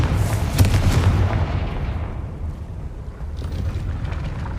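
A Confringo explosive spell blast in Hogwarts Legacy, a loud booming burst that rolls and fades into a rumbling decay.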